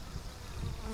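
Honeybees buzz steadily during an inspection of an insulated horizontal Layens hive, a dense close-up hum filling the moment with no talking.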